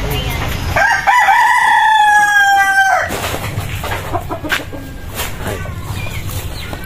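Roosters crow loudly and close by, one long two-part crow after another, with hens clucking around them and a person's voice briefly in the background at a family's backyard flock.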